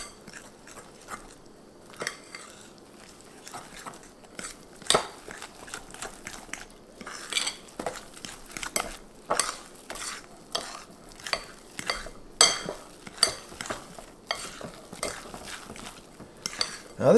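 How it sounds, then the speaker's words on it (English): Keto cheddar biscuit batter being mixed in a bowl, with repeated close scraping and clinking strokes of a utensil against the bowl in an uneven rhythm. "we're going to just mix this all up in here."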